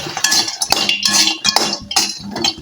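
Spices such as cloves and coriander are dry roasted in a bare pan and stirred with a spoon, giving repeated metallic scrapes and clinks at close range, with no talking.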